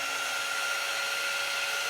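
A dryer blows a steady, even whoosh with a high whine over wet chalk paste, sounding close and unbroken throughout with no voices.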